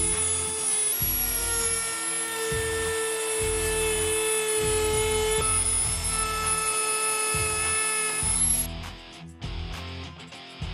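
A power tool cuts through plastic trim and a metal skirt on a Jeep Gladiator bed, a steady high-pitched whine with repeated low bursts as the blade bites, running loud and close before stopping near the end.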